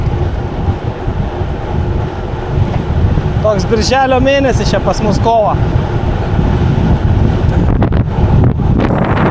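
Heavy wind roars into the microphone as a group of gravel cyclists rides into a headwind on a rural road in Portugal, a dense, steady rush throughout, with someone speaking over it partway through.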